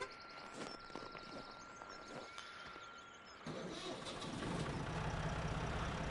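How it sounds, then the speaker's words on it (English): A small tractor idles in the Farming Simulator game, a low steady engine drone that grows louder and rougher midway through. "we'll take this little tractor right here around"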